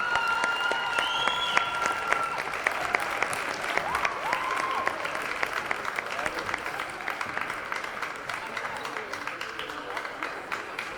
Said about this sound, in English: let's give one more round of applause for the class of